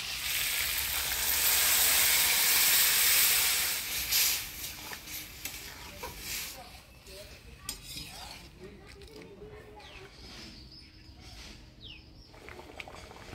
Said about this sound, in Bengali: আদা জিরা বাটা মশলার সাথে ভালোভাবে নাড়াচাড়া করে নিলাম